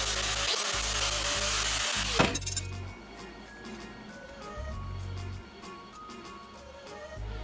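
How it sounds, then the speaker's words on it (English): A sharp burst of high-pitched grinding as a Dremel drum sander smooths metal rod, cutting off abruptly after about two seconds, followed by quieter clinks and low hum in the room. "I've got to run the drum Dremel sander through here just to smooth this out"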